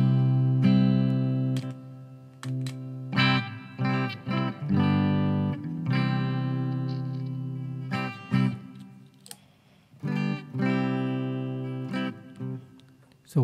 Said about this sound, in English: Clean sound, it's on bypass mode.